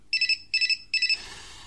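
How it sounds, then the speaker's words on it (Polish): A mobile phone rings in three short bursts of warbling electronic tone. Each burst holds about three quick pulses, close and clear, and the last one trails off into faint room noise. "tu chyba moja komórka dzwoni"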